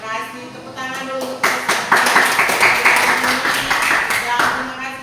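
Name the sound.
classroom applause, clapping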